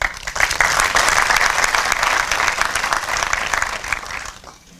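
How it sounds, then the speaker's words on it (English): Audience applause at a black-tie awards gala, a large crowd clapping loudly and steadily, then fading out toward the end. "give yourself a round of applause"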